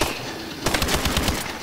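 A light machine gun in the ExoZombies game mode fires a rapid, steady burst of close, loud shots after a brief lull, with no voices over it.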